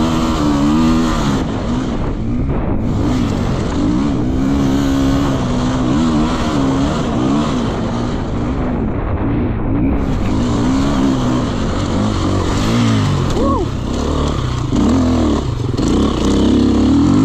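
Loud, close enduro motorcycle engine in a championship race, revving hard continuously as the throttle opens, the pitch climbing and dropping with gear changes and terrain, with no talking.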